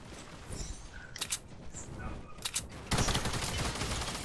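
Video game gunfire aimed at a launch pad, scattered sharp shots at first, then a dense loud burst of rapid fire that holds to the end.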